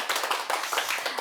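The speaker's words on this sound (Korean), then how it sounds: "열정적으로 강의해 주신 신부님께 큰 박수 부탁드립니다" An audience applauding after a priest's lecture on the Book of Revelation, a steady patter of many clapping hands heard close and continuous for a short burst, without speech.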